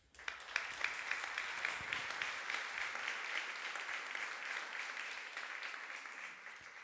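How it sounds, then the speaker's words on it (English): Conference audience applauding at a general assembly, dense steady clapping that swells quickly and holds for several seconds before tapering slightly, no voices over it. "Let's do a quick applause that this GA is taking place in a real location and not online."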